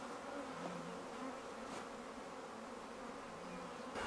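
A spread-out swarm of honeybees buzzing, a dense continuous drone of many wings at moderate distance, steady and unbroken with no voices.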